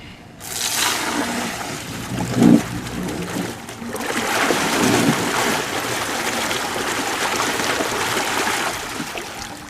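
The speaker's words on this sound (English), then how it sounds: "I'll take a moment here and put it in the water. You'll be able to see the amount of propulsion that it has." A Scott Aqua Sweep aerator runs in lake water, producing a continuous close, loud churning and rushing of water, like a strong stream, with a brief surge early on and then a steady spray throughout.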